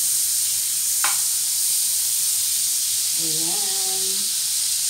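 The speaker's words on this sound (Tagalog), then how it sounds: "Pa-fry natin dito yung ating shrimp sa butter." Shrimp frying in butter in a pan, a loud, steady, close sizzle throughout with a brief tap early on and a voice speaking near the end.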